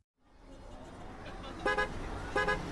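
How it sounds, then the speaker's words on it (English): Car horns honk in congested city traffic, with two short loud blasts over a steady rumble of road noise. "The city was alive with honking horns"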